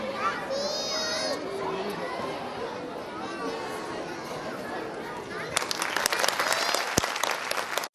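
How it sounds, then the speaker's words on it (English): At an annual school function, a chattering crowd of children swells into loud, sustained audience applause near the end, dense clapping rising over the background voices. "Let's welcome him with a huge round of applause and invite him on the stage."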